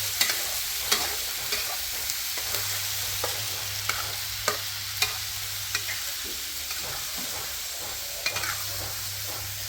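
Pieces of eel stir-fried in hot oil in a pan give a steady close sizzle, with repeated scraping and clacking stir strokes throughout and a low constant hum underneath.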